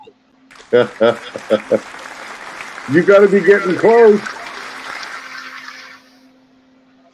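Crowd cheering and applause rise as a broad, loud wash that follows a few sharp sounds and someone speaking, then fades out after about six seconds.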